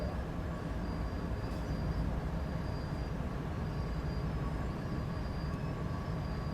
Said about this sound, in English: Give it a nice solid set on the train brakes now.